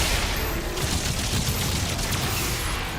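Dense, continuous gunfire and combat noise from shooting enemies in Doom: The Dark Ages, a loud, steady wash of shots and impacts with no clear pauses.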